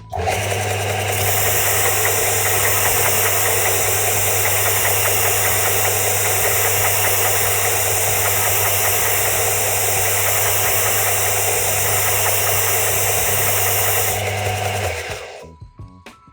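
Procraft BDS380 disc and belt sander switched on and running steadily for about fourteen seconds, a loud constant motor hum with belt whir, then winding down as it is switched off; no talk over it.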